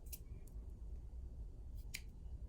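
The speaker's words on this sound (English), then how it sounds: "So we're going to cut a 6-inch piece of string." Scissors snip through a 6-inch piece of string, two quick, crisp, close cuts in an otherwise quiet room.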